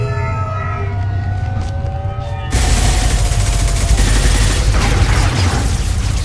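Gunfire in the video game Mass Effect 2 erupts partway through as a dense, loud fusillade of rapid shots and booms, following a quieter stretch of tonal ambience and music.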